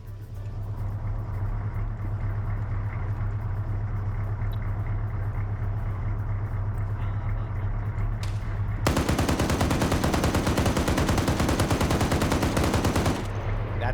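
Gunfire in a PvP video game fight: a steady engine-like rumble, then a long dense burst of rapid automatic fire that runs several seconds before cutting off, loud and close, no voices.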